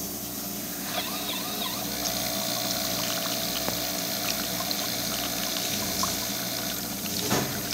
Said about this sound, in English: I'll test the hot water.